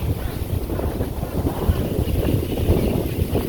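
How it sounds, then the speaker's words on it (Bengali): Strong wind gusts across the open outdoors of a village, roaring and buffeting the microphone with a constant, loud rush and no let-up. "কেলেটা নিয়ে গেল উড়িয়ে বাতাসে"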